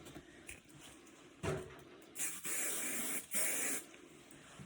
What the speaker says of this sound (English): Just get some hairspray.